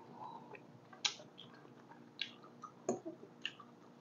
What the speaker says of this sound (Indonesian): Saya mulai kriuk-kriuk